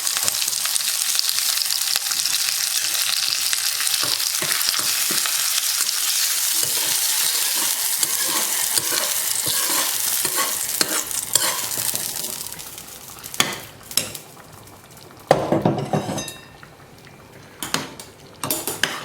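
Steady crackling sizzle of spices and curry leaves tempering in hot oil, close and continuous, then breaking into scattered pops and clinks of a pan or spoon.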